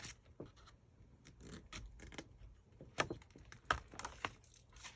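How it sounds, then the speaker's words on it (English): Small scissors snip a tiny V into the fold lines of a 12-inch scrapbook paper sheet, giving a few quiet, close crisp cuts and light paper rustles in an otherwise still room. "on the little fold lines here, I'm just going to cut out a tiny little V to take out the weight"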